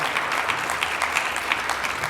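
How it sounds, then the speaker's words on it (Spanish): A church congregation applauds together, a busy, fairly close patter of many hands clapping with a few sharper individual claps standing out, continuous throughout. "Dale un aplauso, hermanos."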